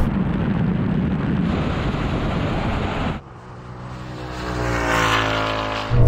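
An electric-converted classic BMW 3.0 CSL and a modified Ford Mustang race to the half mile. A loud, steady roar of hard acceleration drops suddenly, then a quieter whine slowly swells again.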